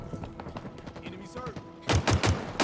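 Halo Infinite gunfire bursts out in a loud, rapid string of close shots in the last second, after game voice callouts and background battle noise.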